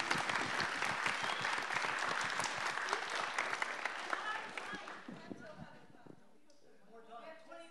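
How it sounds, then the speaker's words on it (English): Applause from a live audience at a journalism stage event, loud and dense for about five seconds, then thinning to scattered claps and tailing off as a voice starts speaking underneath. "Yes, round of applause."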